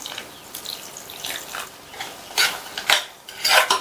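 Water poured into a pan of turnip sabzi and stirred in, with a run of scraping spoon and clinking metal strokes that grow louder toward the end, close up with no talk.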